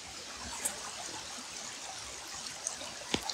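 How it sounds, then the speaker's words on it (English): Creek water flows steadily with a soft, constant trickle during an outdoor walk, faint and continuous with a few small splashy ticks and no talking. "We found this beautiful creek on our walk."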